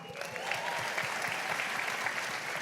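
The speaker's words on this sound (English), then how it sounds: "A round of applause and say welcome to Claire Buchanan." Audience at a sports conference applauding to welcome a speaker, a steady fairly soft wash of clapping from a large crowd, spread out and continuous.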